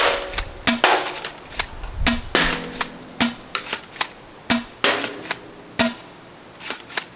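A Nerf Tactical Unicorn dart blaster fires repeatedly, giving sharp close snapping shots in an uneven rapid series, with mechanical clacks between bursts.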